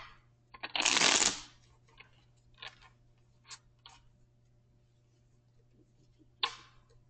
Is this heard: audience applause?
no